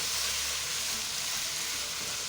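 Vegetables stir-frying with soy sauce and chili sauce for chicken chow mein, a steady loud sizzle over high heat, continuous and close with no talk.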